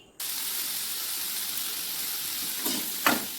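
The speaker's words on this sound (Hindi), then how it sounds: "तेल गरम हो गला मैं आलू पकई देबी" Potatoes drop into hot oil and sizzle loudly at once, a steady close frying hiss that holds throughout, with a couple of brief louder spatters near the end.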